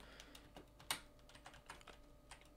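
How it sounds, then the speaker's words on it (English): Fingers tap quietly on a computer keyboard with scattered, uneven keystrokes and one sharper click, faint and close, with no voices. "You're gonna hear me type it on my keyboard and clicking."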